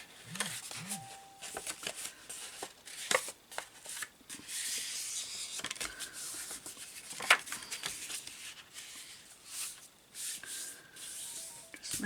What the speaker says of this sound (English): So I'm folding it and then burnishing it with my fingers